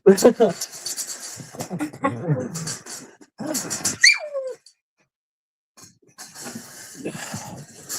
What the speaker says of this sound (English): She's a black pug, and she's a little troublemaker. She likes to bark a lot.